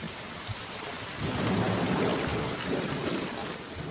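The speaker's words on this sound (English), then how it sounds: "For weeks at a time, the rain is almost constant." Heavy monsoon rain falls steadily in December among billabongs, with a low rumble of thunder swelling partway through and holding as a dense wash of noise; no voices.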